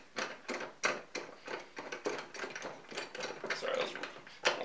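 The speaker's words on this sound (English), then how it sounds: "each time, I'll just tighten up my clamps here" Clamps being tightened on a bandsaw log-milling jig give a close run of irregular, rattling ratchet-like clicks, with a few sharper snaps mixed in.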